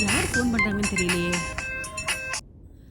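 A telephone ringtone plays a bright electronic melody of rising and held tones in a Tamil television serial, chiming loudly for about two seconds before cutting off abruptly.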